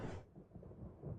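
Thunder cracks sharply at the start and then rolls into a low, steady rumble during a stormy autumn-evening intro scene of a video game set in an Iron Age barbarian village.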